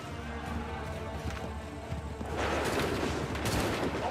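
Musket volley fire in Assassin's Creed 3, set at Valley Forge in 1777: a dense, continuous crackle of distant massed shots that swells louder halfway through, with no talk over it.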